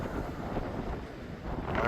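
Steady wind blows across the microphone outdoors at a wildlife refuge near water, a continuous broadband rush and buffeting that rises slightly near the end.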